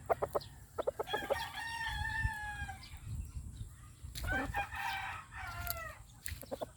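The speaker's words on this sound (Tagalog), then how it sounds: "Bagong ligo ang mga manok." Chickens kept for breeding, freshly bathed on a hot summer day, cluck and crow close by: a rooster's long crow mixed with short repeated clucks and squawks from several birds, no talking.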